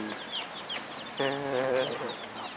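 Chickens cluck and chatter nearby at an elephant camp, with a louder, drawn-out harmonic cluck in the middle over a quiet farmyard background.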